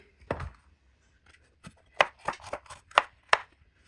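Knife chopping a red bell pepper on a board, a series of sharp, close cuts in an uneven rhythm with short pauses between strokes.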